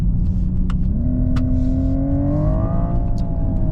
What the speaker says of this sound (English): The sound it's obviously electronic and fake and all of that, but I think it's pretty good.